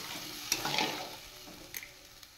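Fried potatoes and eggplant dropped into a pan of boal fish curry, a soft hiss with a few sharp clinks and a brief stir, close and fairly quiet.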